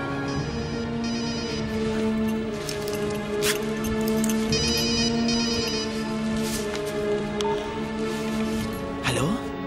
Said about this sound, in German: Ich rufe Scooter an.